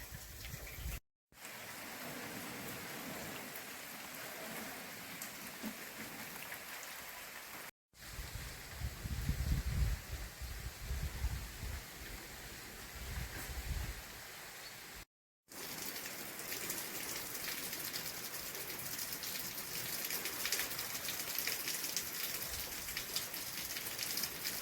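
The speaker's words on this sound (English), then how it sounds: "It's raining! You! So happy about it. And it's a good rain this time." Steady rain falling on a mountain organic farm, a dense continuous hiss of drops on surfaces, broken by a few brief silent gaps and swelling heavier toward the end.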